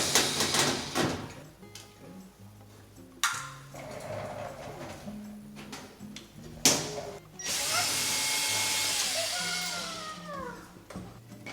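A power drill backs screws out around the rear panel of a gas oven, whirring in several short bursts between pauses and clicks, ending with a longer, steady spin.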